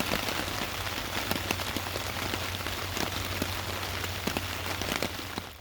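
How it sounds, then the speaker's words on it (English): Rain pelts a cheap outdoor tarp in a steady, dense patter, with sharper individual drops ticking throughout at close range, and no one speaking. "Come on, rain."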